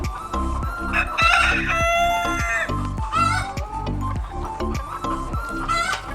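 Free-range desi chickens on a poultry farm, clucking while they eat after being let out and given feed and water, with a rooster crowing loudly and repeated close, rhythmic clucks.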